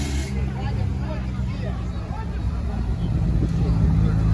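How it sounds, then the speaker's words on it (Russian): Engine of an off-road jeep racing in a standard-class offroad competition, running with a steady low rumble under crowd babble and nearby voices. "Джипник завелся."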